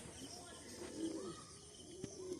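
A pigeon coos softly a few times at close range, low rounded calls in a quiet room, with light rustling and a brief click.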